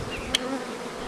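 Honey bees hum steadily at an open beehive on a Romanian apiary farm, a close, continuous buzz with one short sharper blip.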